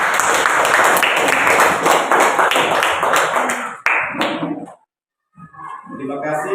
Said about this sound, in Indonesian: mari kita memberikan tepuk tangan kepada